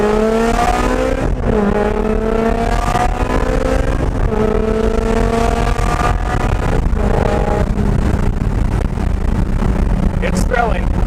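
A Ferrari Challenge Stradale engine revs hard toward 8,000 RPM, loud and close, climbing in repeated rising sweeps with brief drops between gear pulls.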